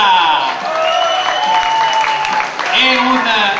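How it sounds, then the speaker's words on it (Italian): At a restaurant gathering, warm applause for the organizers rises loudly under excited voices and cheering that ride over the clapping for several seconds. "Un calorosissimo applauso a Marcello e a Francesca!"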